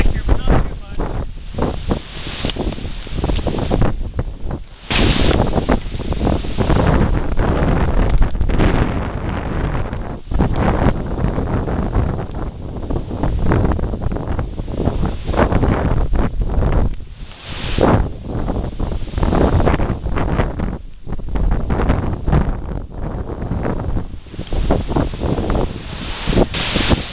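High wind roars and gusts around a Wenzel 80x80 dome tent, battering the microphone with constant buffeting and rustling fabric, loud and continuous throughout with brief lulls between gusts.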